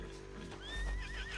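A horse neighs in Red Dead Redemption 2, a wavering whinny rising and shaking over hoof clatter and low background music, fairly faint and brief.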